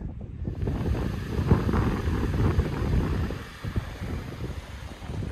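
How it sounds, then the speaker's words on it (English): Strong wind buffets the microphone high on a mountainside near a wind turbine installation, a continuous loud roar that rises and falls in gusts with no one talking. "So this should normally be a pretty good wind."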